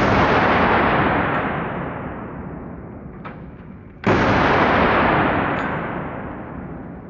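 Two loud gunshots are fired into a container of oobleck several seconds apart, each a close, sharp blast with a long decaying echo.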